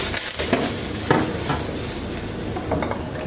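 Garlic fries in a little oil in a pan, giving a steady loud sizzle broken by a few scraping stirs of the spatula.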